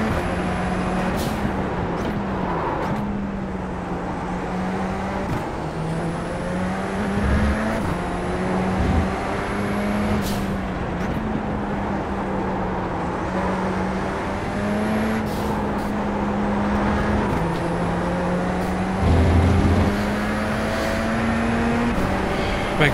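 A Radical SR race car engine in a sim racing game drones steadily and loud throughout, its pitch stepping up through gears and dropping on shifts, with brief transient clicks and no talking.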